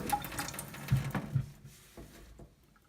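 Water drains through bark and soil in a freshly potted orchid pot, soft irregular trickles and drips close by that fade gradually to near silence.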